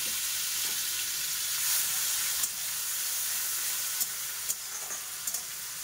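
Onion, tomato, green chilli and cumin seeds sizzle steadily in a hot oiled kadai, a continuous bright hiss broken by a few soft clicks of stirring, close and without talk.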